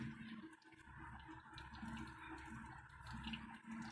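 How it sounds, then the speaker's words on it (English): Air and coolant gurgle through a custom PC water-cooling loop with 480mm radiators as it is rocked and tilted, a continuous low bubbling, sloshing flow close by, with no talking. "you can hear the air in the radiators"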